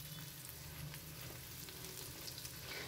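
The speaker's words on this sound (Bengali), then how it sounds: "দিয়ে দিলাম একটু কালো জিরা।" Black cumin seeds frying in hot mustard oil, a steady soft sizzle with faint crackles throughout, close and continuous.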